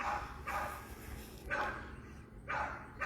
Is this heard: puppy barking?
yes